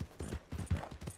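Horse hooves in the Red Dead Redemption 2 video game, a quick run of soft clip-clops at a steady trotting rhythm, faint and close.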